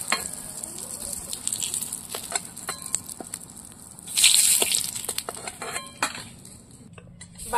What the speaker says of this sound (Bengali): বাকি বেগুনগুলো ভেজে নেব।